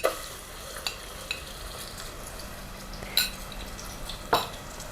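Onions sizzle and fry in hot oil as a spoon stirs, with occasional clinks and scrapes against the pan, close up, no voices; onions for achari chicken.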